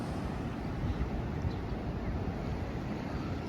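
Sea waves at Patar Beach in Bolinao, Pangasinan, make a steady broadband wash of surf mixed with wind buffeting the microphone, continuous and fairly loud with no clear breaks.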